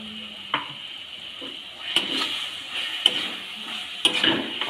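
Spice mix stirred into olive pickle in a pan, a low sizzle beneath a few distinct scraping and clinking strokes of a spoon against the metal, spaced about a second apart.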